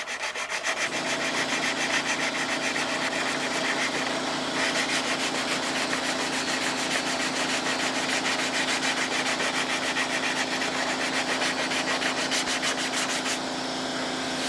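Steady, continuous sanding of thin CA glue coats on a model during crash repair, a close, even rasping rub that carries on for the whole stretch without pauses.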